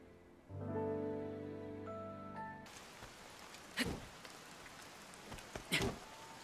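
Rain setting in after a brief tonal musical phrase fades out, a soft continuous hiss of falling rain with a couple of louder splashing bursts, fairly quiet and without speech.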